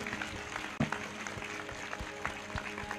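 Church congregation claps during worship, a fairly quiet, continuous patter of hands with a few louder claps and a sharp thump near the start.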